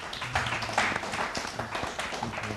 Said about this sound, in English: That's a big round of applause for them.